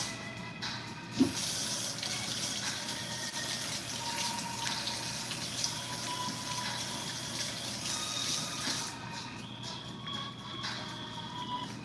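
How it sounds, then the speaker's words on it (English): Running tap water pours steadily as hands are rinsed at a kitchen sink, a constant close gushing splash with a brief knock near the start and no voices. "Give my hands a rinse."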